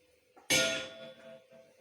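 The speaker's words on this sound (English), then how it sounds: "Next, fill up the vessel with water and then knock it with a spoon." A spoon strikes a kitchen vessel filled with water once, giving a sharp, bright clang that rings on with a long, shimmering decay, close and alone in a quiet room.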